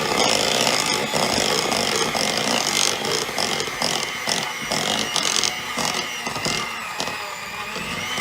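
An electric mixer beats cookie dough in a bowl with a loud, steady, grinding whir that runs without a break from start to finish.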